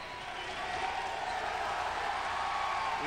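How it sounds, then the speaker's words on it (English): A packed basketball arena crowd roars during a Duquesne versus Xavier college game, a dense continuous cheer that swells slightly and holds loud throughout. "Listen to that crowd."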